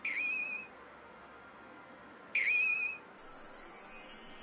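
Pachislot machines in a busy pachinko hall give off high electronic whistling effects: two short rising-then-steady tones, then a layered warbling sweep, all fairly faint.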